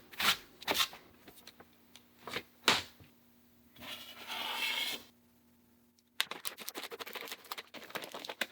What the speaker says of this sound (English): So I'll chop up the ginger.